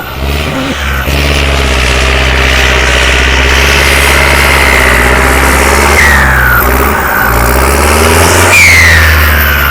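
A new car's engine is revved hard during a full-power test, a loud, close, continuous roar with rising pitch sweeps and brief dips between revs.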